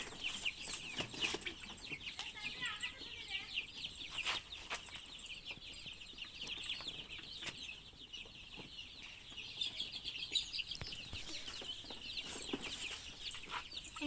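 Chicken chicks, including one that is sick and injured, cheep continuously in a dense, high chorus, with occasional clucks and faint wing flaps mixed through the steady noise.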